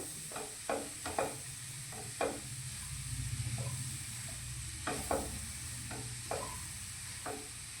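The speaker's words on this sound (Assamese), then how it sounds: "এয়া মই লৰাই লৰাই ভাজি আছোঁ।" A jaggery and coconut mixture sizzles in a pan while a spoon scrapes and stirs it in repeated, uneven strokes, close up against a constant hissing fry.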